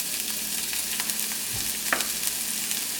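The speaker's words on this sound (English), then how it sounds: "Now we're going to saute our vegetables." Onions sauté in grapeseed oil in a pan, a soft continuous sizzle broken by a few scraping stirs and light clinks, close and quiet with no talking.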